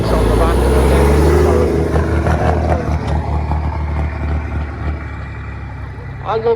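A Scammell Pioneer military prime mover truck passes in a wartime vehicle parade, its heavy, loud engine rumble fading gradually under a voice.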